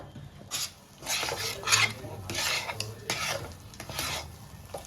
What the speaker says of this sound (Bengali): আর ভালো করে হাতা দিয়ে একদম ঘেটে নিয়েছি পুরো।